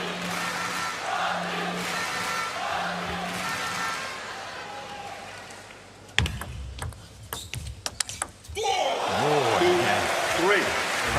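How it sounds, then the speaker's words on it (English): A Montpellier arena crowd at a WTT Champions table tennis match cheers and chants for Patrick Franziska, a steady roar under commentary, broken by a burst of sharp clattering hits and then a swell of cheering. "Cries of Patrick ringing around the Infinity Arena. Montpellier crowd getting right behind him."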